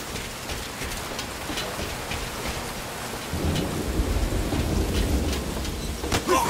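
Heavy rain pours steadily with rumbling thunder in a Metal Gear Solid V Ground Zeroes stealth scene, the storm swelling louder partway through, with no voices.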